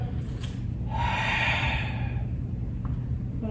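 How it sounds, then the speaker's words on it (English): Slow, audible breaths from a person doing chair yoga, with one longer exhale swelling in the middle, close and soft over a steady low room hum, with no talking. "I want to make sure we're breathing"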